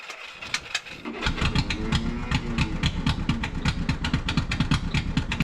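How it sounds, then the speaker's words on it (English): Small pony motor on a bulldozer, run on full choke, catches after a moment of quiet and settles into a rapid, steady, close-up chugging idle with no talk over it. "All right, pony motor's running."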